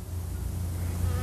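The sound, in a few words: bee buzzing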